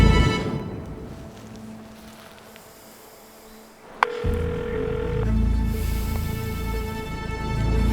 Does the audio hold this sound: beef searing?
no